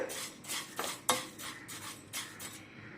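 Flattened rice (aval) roasts in a pan while a spoon scrapes and stirs it, producing repeated crisp clinks and rustling scrapes in an irregular rhythm. Each stroke is close and clear, with no talking.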